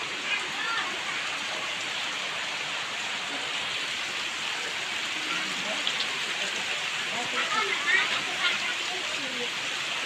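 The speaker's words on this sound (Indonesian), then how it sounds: "Hujan guys." Heavy rain falling steadily in Kampung Pangecupan, Carita, Pandeglang, Banten, during days of flooding, a dense continuous hiss and patter close by with no break, a few faint voices beneath it.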